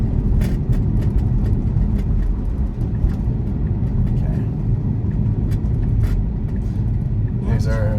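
A car rolls over a bumpy road near an airport with a steady low rumble of road and tire noise and faint knocks from the bumps, while a voice talks throughout.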